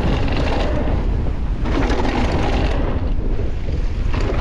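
Gusty wind roars over the microphone on a mountain bike ride, a loud continuous rumbling buffet throughout with no voices.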